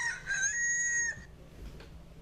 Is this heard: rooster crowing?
yes